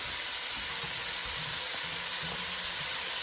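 Garlic sizzles in a hot pan with browning turkey neck bones for a navy bean dish, a steady close hiss and crackle that runs unbroken and alone from start to finish.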